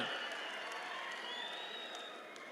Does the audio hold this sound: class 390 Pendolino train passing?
no